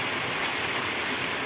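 Steady rain pours during a long thunderstorm with hail on a warm evening, a dense even hiss filling the clip without pause, close and fairly loud with no voices.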